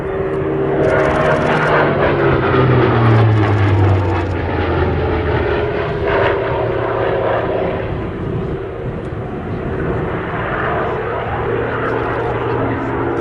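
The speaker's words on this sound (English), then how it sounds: "With the roll rate of the Fury here, as Paul flies it" A Fury warbird in Red Bull Air Race livery performs crisp aileron rolls in an airshow display at Sywell, its propeller engine droning steadily and loudly throughout beneath continuous commentary.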